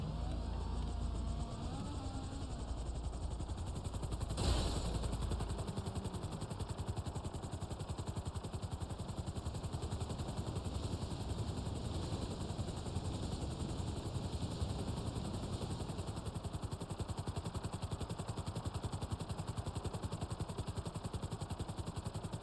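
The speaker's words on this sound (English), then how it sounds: "Get in the helicopter. This is one of the fastest helicopters in the game." Fast helicopter flying in GTA Online, a steady loud rotor and engine drone running throughout with a brief sharp burst near the start, no talking.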